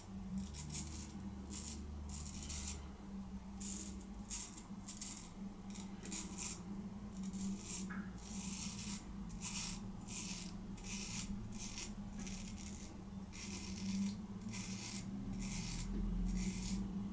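Shaving with a C V Heljestrand straight razor: close, quiet rasping scrapes of the blade across stubble in short repeated strokes separated by brief pauses.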